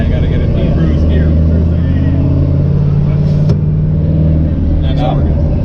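A truck engine drones steadily while driving, with constant low rumble and road noise as it settles into cruise gear; someone talks over it throughout.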